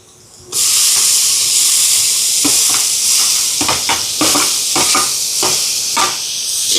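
Onions and tomatoes sauté in hot oil for a chicken curry, starting abruptly with a loud, continuous sizzle and hiss, broken by intermittent scraping stirs of a spoon in the pan.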